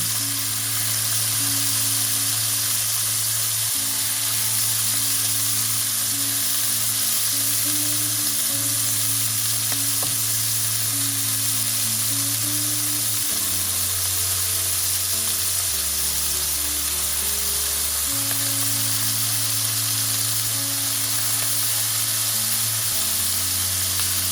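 Black pork rolls pan-frying in scallion oil over medium heat, a steady close sizzle running unbroken for the whole stretch over a low humming drone that shifts pitch partway through, with no voices.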